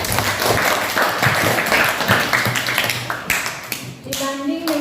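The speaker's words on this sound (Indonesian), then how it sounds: "Tepuk tangan dulu." A classroom of children claps together in a burst of fast, scattered applause for pupils' test scores, followed by a few voices chattering as it dies down.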